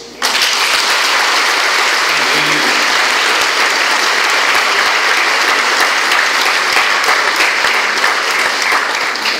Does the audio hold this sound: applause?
yes